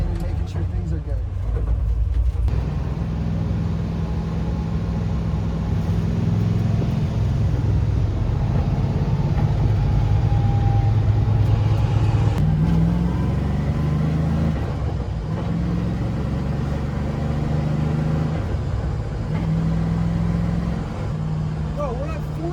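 A V8-swapped Nissan 240SX is driven gently under light throttle, giving a steady, loud low engine drone with mild rises and falls in pitch, heard from inside the car over road noise while people talk.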